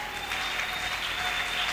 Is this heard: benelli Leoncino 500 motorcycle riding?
no